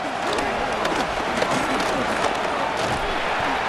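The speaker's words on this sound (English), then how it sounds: "This crowd turning up the decibel level." A stadium crowd roars and applauds steadily during a Packers vs Bears game in Madden NFL 26, a dense, continuous wall of cheering with scattered shouts and no clear commentary voice.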